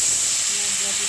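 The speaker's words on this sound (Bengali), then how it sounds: "এখানে দিয়ে দিচ্ছি একটু জল" Water poured onto frying ginger with turmeric, cumin and coriander powder gives a loud, sustained, close hiss of steam that lasts the whole brief moment.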